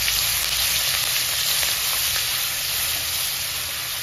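Curry leaves and crushed green chili paste hitting hot oil, giving a loud, steady, close sizzle and hiss with no pause.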